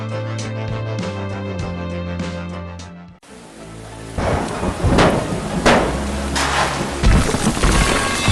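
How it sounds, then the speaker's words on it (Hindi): Steady rain pours at a quiet construction site, with low rumbling thunder-like booms rising beneath dense noisy patter; a brief tonal musical passage plays before the rain begins. "बारिश की बूंदें इस शांत निर्माण स्थल पर गिर रही हैं"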